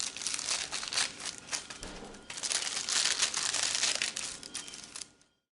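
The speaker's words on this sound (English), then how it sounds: "I had very little trouble removing the curtains from the wax paper," Crisp, continuous crinkling and crackling as dollhouse curtains are peeled off wax paper, close and fairly quiet, with a brief lull midway before fading out.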